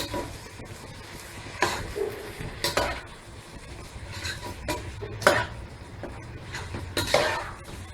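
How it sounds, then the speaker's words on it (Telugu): Chicken biryani ingredients with green chillies, tomato pieces, coriander and mint being stirred in a pot, scraping and clinking of a spoon against metal in irregular bursts over a low sizzle, near and moderately loud. "బాగా మిక్స్ చేసుకోవాలి."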